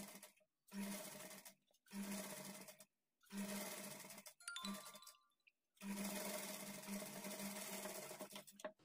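A sewing machine stitches a princess-cut seam on a high-neck blouse in five steady bursts separated by brief pauses, running loud and close throughout.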